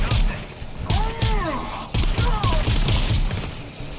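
Bursts of gunfire from the video game GTFO sound in quick repeated volleys with mechanical clatter, while a player's voice yelps and shouts partly over the shots.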